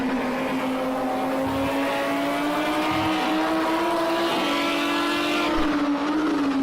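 A GT3 race car in a racing video game runs flat out, its engine note holding a steady loud high drone that climbs slightly in pitch with brief dips at gear changes, continuous throughout.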